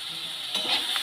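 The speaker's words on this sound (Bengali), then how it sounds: "কাঁচা লঙ্কাটাকেও ভালো করে বেগুনের সাথে ভেজে নেব।" Green chillies and brinjal with potato frying together in a pan, a steady close sizzle with a brief stirring scrape partway through, no talking.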